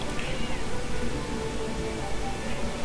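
A cat meowing indoors, a faint drawn-out cry early on over a steady background hum.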